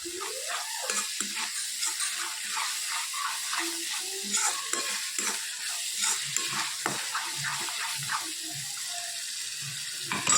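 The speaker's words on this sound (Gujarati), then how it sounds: "આપણે ડુંગળી અને લીલું લસણ નાખીએ." Chopped onion, green garlic and cashew pieces frying in oil in a pan, with a steady close sizzle and soft stirring scrapes running throughout.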